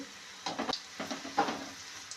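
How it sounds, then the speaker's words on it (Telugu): Lentil fritters (punugulu) made from a mixed-dal batter fry in a pan with a soft sizzle, broken by a few scraping stirs and clinks of a utensil; no talking. "ఇప్పుడు వేగిపోనండి తీసేద్దాం ఇలాగ ఎర్రగా ఏగాలే"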